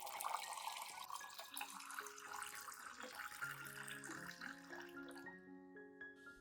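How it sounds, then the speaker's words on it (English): Clean room-temperature water poured into a plant-revival solution, a faint continuous trickling and splashing whose tone rises as the container fills, with no talking. "add 500 milliliters of clean, room temperature water to dilute the solution"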